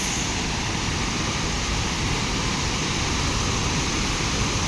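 Waterfall at Lake Sebu roaring with powerful rushing water, a loud, steady broadband wash that fills the whole clip without pause and with no voices.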